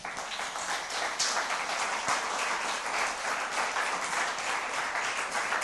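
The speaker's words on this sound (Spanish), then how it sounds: "¿Cuánto le dan un aplauso al Señor por eso?" A church congregation breaks into sustained applause, a dense, steady wash of many hands clapping together with no pauses for the full stretch.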